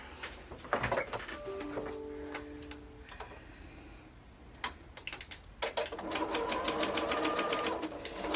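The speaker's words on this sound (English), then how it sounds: "So let me sew that seam." Sewing machine stitching a fabric seam: at first intermittent ticks and short runs, then a steady, fast, close mechanical rattle of stitching that carries to the end.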